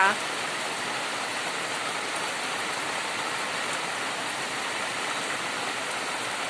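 Steady rain falls in a continuous, even hiss of drops on surfaces, moderately loud and unbroken from start to finish.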